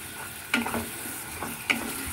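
Onion paste frying in a pan hisses steadily up close, broken by a couple of sharp clinks and scrapes as a utensil stirs it.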